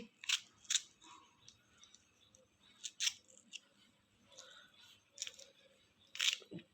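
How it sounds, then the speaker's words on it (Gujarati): Repeated sharp snipping cuts as lemons and chillies are slit for pickle, about eight crisp bursts at irregular intervals, close and fairly loud, with no talking. "મરચાંને પણ આવી રીતના વચ્ચેથી કાપો કરી"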